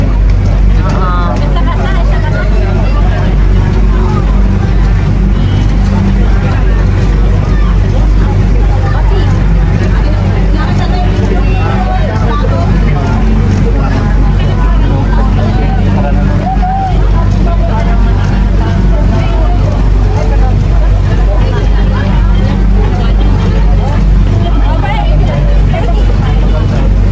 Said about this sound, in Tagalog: motorboat